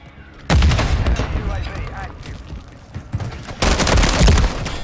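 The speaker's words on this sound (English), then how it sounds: "Stun grenade out." Explosions and heavy gunfire in a Call of Duty game, with a loud blast early on, sustained rattling fire, and a second loud burst near the end.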